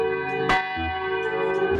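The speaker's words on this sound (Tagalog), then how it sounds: "yung mga kampana, nag-uundog" Church bells ringing out loud and close, a sustained metallic tolling with rich ringing overtones and fresh strikes roughly every half second or so.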